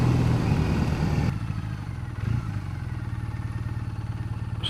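A 2014 Triumph Bonneville motorcycle engine putters along at low speed in third gear, a steady mid-pitched rumble with a faint rhythmic pulse, close and continuous with a brief shift in tone partway through.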